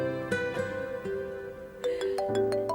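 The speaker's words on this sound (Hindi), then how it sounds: "एक मिनट, फोन आ रहा है।" A mobile phone rings with a bright, melodic electronic tune of repeating tones, heard clearly indoors with no talk over it.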